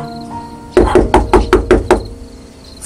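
Seven firm knocks on a door land in quick, fairly even succession, close and loud, against a quiet room with a faint steady hum.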